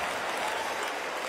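A brief burst of dense applause from a party crowd at a thirtieth birthday celebration, steady and fairly close, with no voices standing out.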